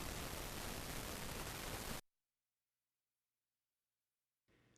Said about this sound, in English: And now we're listening to pink noise. It's a bit warmer.